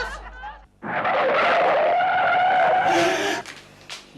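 A car brakes hard and its tires skid and screech in a long, loud, continuous squeal lasting a few seconds after a brief pause, then cutting off.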